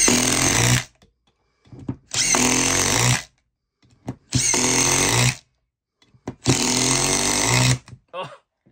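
An original Makita TD173 cordless impact driver hammers away in four loud, close bursts of about a second each, with short pauses between them and brief talk in the gaps.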